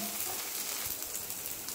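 Wheat flour rava dosa fries in oil on a pan, giving a steady, close sizzle with a constant bright crackle and no voices.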